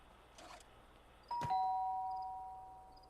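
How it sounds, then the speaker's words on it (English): Doorbell chime from The Sims 3: a soft tap is followed by a clear two-tone ding-dong that rings out and fades slowly, heard alone and fairly quiet. "Somebody go ring the doorbell."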